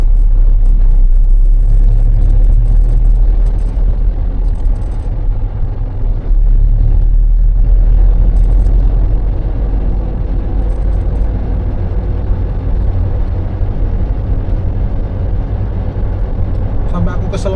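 A car cruises around the Citraland housing estate in Surabaya, giving a steady, loud low rumble of engine and road noise that runs throughout, with people talking over it.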